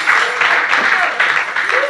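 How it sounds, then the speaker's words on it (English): Audience applause at a church camp meeting testimony night, a thick continuous clatter of many hands, loud and near, with voices and a few whoops mixed in. "it's sad how many claps that got."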